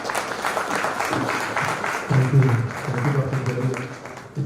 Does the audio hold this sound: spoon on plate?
no